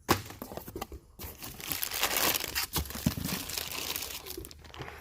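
Protective packing paper around an ATI Super Damper K-Series Street version crumpled and crinkled by hand, close and continuous with rustling bursts, no talk.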